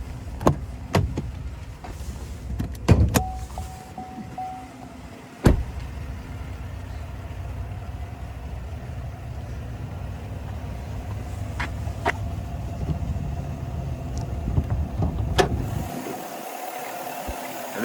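A 2022 Chevrolet Silverado 1500 TrailBoss's 6.2-liter V8 idles in a low, even hum, with a few sharp clicks and knocks of the hood or door near the start.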